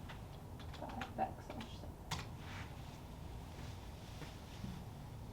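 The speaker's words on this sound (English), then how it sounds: "I'm going to type it in" Keys clatter on a computer keyboard as a fraction is entered during a math lesson, a few faint, scattered taps over a low background hum.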